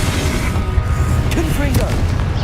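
Confringo fire-blast spells in Hogwarts Legacy combat, a loud continuous roar of booming bursts and crackling impacts layered over dense game music and effects.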